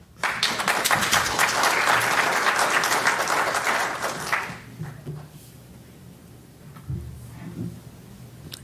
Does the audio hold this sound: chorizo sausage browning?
no